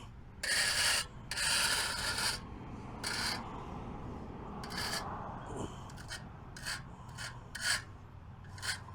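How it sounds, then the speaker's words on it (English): A trowel scrapes and presses crack filler into an asphalt driveway, giving a series of rough, gritty rasping strokes in uneven bursts, close and fairly loud with no talking. "I'm gonna use my trowel to kind of push it down a little bit."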